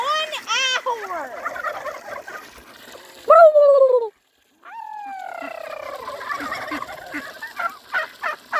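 Turkeys on a farm gobble in rapid, warbling bursts, one loud nearby call standing out, then a brief pause before more overlapping gobbles and clucks continue.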